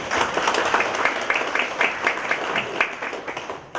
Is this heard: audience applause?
yes